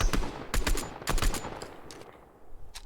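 Gunfire in the video game Fortnite: several short bursts of rapid shots, loud and close, then quieter single reports as the shooting tapers off.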